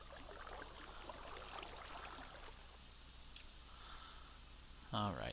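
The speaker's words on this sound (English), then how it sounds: "Now we just pretty much creating water flow" Water flowing in the video game Minecraft gives a faint, steady trickling hiss throughout, with a brief louder click near the end.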